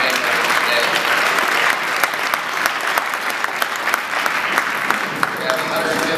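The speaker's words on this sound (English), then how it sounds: "So let's give all of them a round of applause." A room of about 150 people applauds at a Black History program, dense continuous clapping with crisp individual claps popping through, fairly loud and sustained, with some voices underneath.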